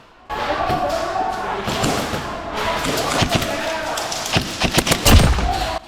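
Several sharp airsoft gun shots from an M4 crack close by at a pistol airsoft field, some in quick bursts, over a steady rushing background with a few thuds and scattered voices.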